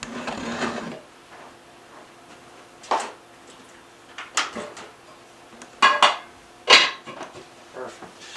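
A pan being handled outdoors in bitter cold, around 40 below, while cooking tacos: several separate metallic clanks and scrapes, spaced irregularly and fairly close, with quiet gaps between them.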